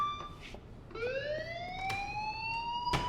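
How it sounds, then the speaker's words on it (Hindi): A fire alarm sounding in the video game Life Is Strange: a wailing electronic tone that sweeps upward and holds high, loud and clear with nobody talking. "और अभी फायर अलार्म भी बजा दी अच्छे से"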